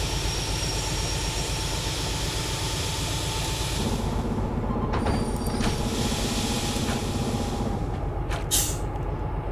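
Air brakes on an S282 steam locomotive in the train game Derail Valley release a loud, sustained hiss with a mechanical rattle that continues throughout.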